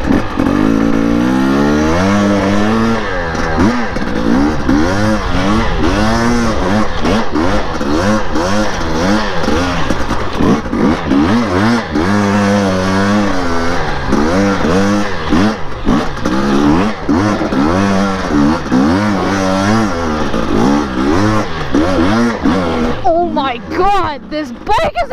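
A Husqvarna TE250i dirt bike engine climbs a steep uphill, revving loud and close with rising and falling pitch sweeps as the throttle is worked throughout, barely dropping off near the end.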